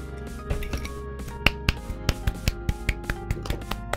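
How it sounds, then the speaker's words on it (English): A slow golf clap after a three-hole round in Golf With Your Friends, about a dozen quiet, evenly spaced hand claps, fairly close, with faint background tones and no talk. "Golf clap."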